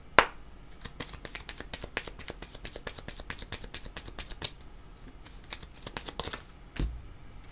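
Oracle cards being shuffled by hand, a rapid run of crisp riffling clicks and flicks with brief pauses, close and fairly quiet, with one louder slap near the start.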